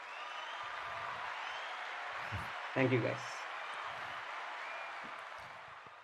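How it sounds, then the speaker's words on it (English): Audience applause after a student's final project presentation in a robotics class, a faint steady patter of clapping over the whole stretch, with a brief spoken thanks partway through. "let's do a final applause there"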